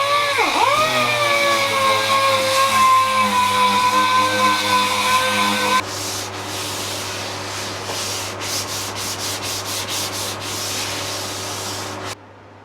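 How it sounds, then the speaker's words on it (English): Power sander working the lid of a wooden toy box before varnishing, a loud continuous whirring grind that shifts tone partway through, then stops abruptly near the end. "I then gave the lid its final sand before applying 4 coats of polyurethane varnish."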